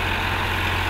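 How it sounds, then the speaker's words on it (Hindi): Eicher 551 and Eicher 557 tractors, one a 4WD, run together in the same farm field, giving a loud, steady low diesel engine drone with a constant hum and no pauses. "तो एक ही खेत में दो ट्रैक्टर चल रहे हैं अपने"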